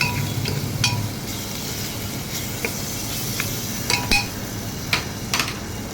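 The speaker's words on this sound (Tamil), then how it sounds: "இப்போ நம்ம ஒரு தேக்கரண்டி இஞ்சி பூண்டு விழுது சேர்த்து அதையும் நல்லா வதக்கி விட்டுக்கோங்க" Shallots and ginger garlic paste are being sautéed in a pan while chicken liver chukka is cooked, with a low sizzle under scattered clinks and scrapes of a spoon against the pan.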